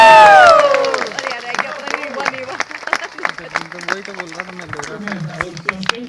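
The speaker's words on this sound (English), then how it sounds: "If he misses, just give him a clap for trying. If he hits it, we'll give him a cheer." An audience at a sea lion show cheers and claps after the animal's big jump. A loud burst of cheering opens the clip, then fades into scattered clapping while a presenter talks over it.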